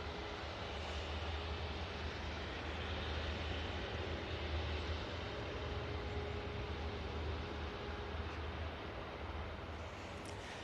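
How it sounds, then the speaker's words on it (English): A KLM Embraer E190 airliner arriving from Amsterdam Schiphol at Manchester Airport, heard as a steady, distant broadband roar with low rumble that holds evenly throughout with no talk. "It's the KLM E190 coming in from Amsterdam Schiphol."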